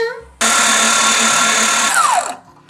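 A stand mixer with a dough hook kneads bread dough, its motor kicking in abruptly with a loud, steady whirring hum for about two seconds before winding down and stopping.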